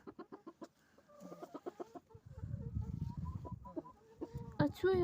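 A rooster clucks among hens in a farm coop. A few close, short clucks come at the start, then someone speaks quietly and the bird keeps sounding in scattered bursts.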